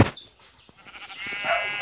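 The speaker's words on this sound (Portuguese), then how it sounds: "Achei mais uma ovelha." Sheep bleating in a survival video game: a short, wavering bleat rising near the end after a sharp onset, fairly close and with no talk over it.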